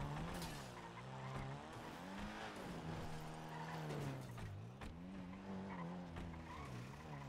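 Video game car from GTA NoPixel driving hard with revving engine and repeated squealing tire skids, continuous and fairly close, with a faint voice in the background.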